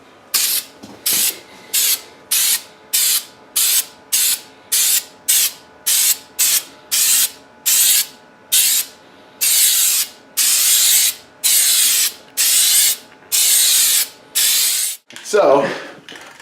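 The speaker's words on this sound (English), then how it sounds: "we got all this undercoating sprayed in." Undercoating sprayed from a can into the cut rear fender of a Jeep Grand Cherokee: about twenty close, loud hissing bursts in a steady on-off rhythm that grow longer toward the end, followed by a brief clunk.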